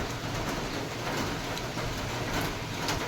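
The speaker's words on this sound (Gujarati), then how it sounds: "સારો એવો વરસાદ પડે છે।" Heavy rain falls steadily outdoors, a dense continuous wash of noise at even loudness throughout, with no voices.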